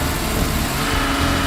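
A 1968 Dodge Charger V8 with a Thermoquad carburetor runs hard, giving a dense, continuous engine roar close by that stays steady throughout with no voices.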